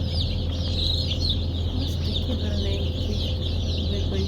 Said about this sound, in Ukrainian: Вибрали нову партію курчаток. Ось дивіться, які гарненькі.